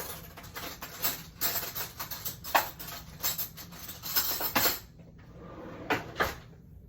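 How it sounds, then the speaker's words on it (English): Spoon and dishware clinking in a home kitchen while peanut sauce is being made, a run of light scattered clicks and taps at close range, fading to near quiet before a couple of final clinks. "Grab another spoon here."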